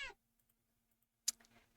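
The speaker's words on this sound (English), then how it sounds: "The cat sounds annoyed with you." A cat gives a short, faint meow at the start, then a louder, rougher meow-like cry after a pause of near silence, close by and alone.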